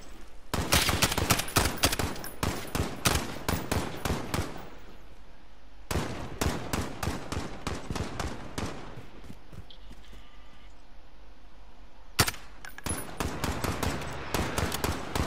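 Rapid bursts of gunfire crack loudly in a first-person shooter game, clustered shots in quick sequences separated by short pauses, with sharp repeated reports throughout.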